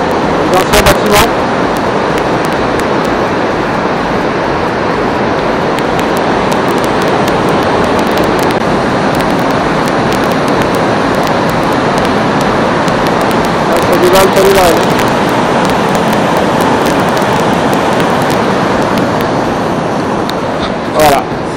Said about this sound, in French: Là, en dessous, vous entendez la rivière.